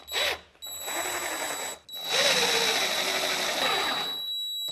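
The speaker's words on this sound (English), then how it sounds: "I should be able to drive this thing in" A power drill drives a screw into a pre-drilled hole in cabinet work, whirring in two bursts: a brief spin, a pause, then a longer sustained run whose pitch shifts under load before it stops.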